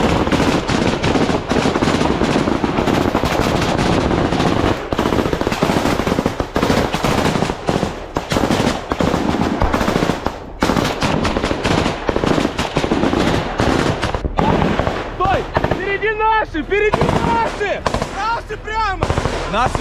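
Relentless bursts of machine gun fire during trench combat in Ukraine as an assault brigade returns fire on an attack, loud and close, with dense rapid volleys and scattered single shots, faint voices among them.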